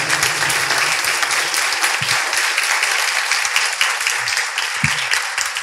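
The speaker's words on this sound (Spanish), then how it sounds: "vamos a darle un fuerte aplauso al doctor Albert." An audience at a book presentation on transhumanism and Christian faith claps in a sustained, dense round of applause that carries on without a break.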